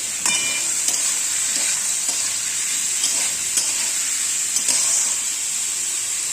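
Potato, capsicum and carrot frying in a pan for veg chow, a bright continuous sizzle with occasional stirring knocks, close and steady throughout.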